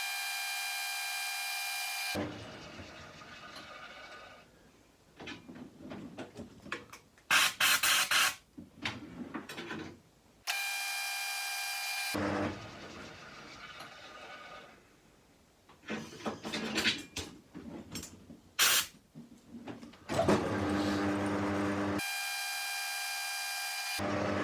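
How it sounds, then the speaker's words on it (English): A drill whirs and grinds in uneven bursts while a tapping-size bit bores through a clearance-size hole in metal, alternating with stretches of steady mechanical hum. "we are putting a tapping size drill through a clearance size hole"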